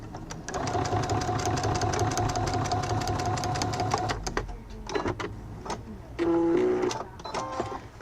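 A sewing machine runs steadily for about four seconds, stitching a seam on a wallet with a rapid mechanical clatter. It then stops and starts in shorter bursts, with a brief whirring spurt near the end.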